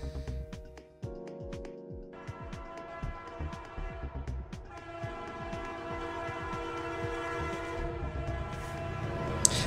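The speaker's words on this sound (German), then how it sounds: "es kommen immer die gleichen Züge" Trains roll past in a video game, with repeated clattering wheel clicks, a rising rumble and sustained horn-like tones building in loudness as they pass close by.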